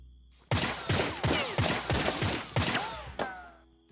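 Loud, close gunshots crack out in about six heavy bursts at a steady pace as a character lays down suppressing fire at rocks in the video game 3 Minutes to Midnight, with no talk.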